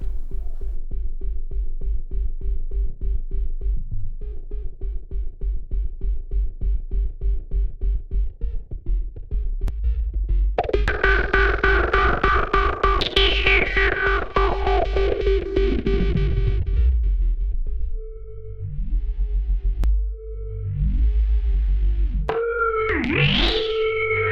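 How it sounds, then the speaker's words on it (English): Deep synthesized bass with heavy distortion, fast echoing delay and washy reverb, swelling and sweeping in pitch, loud and continuous, in a Cyberpunk 2077-style bass. "this thing turns like the very basic sound that we've made into like very ambient bass"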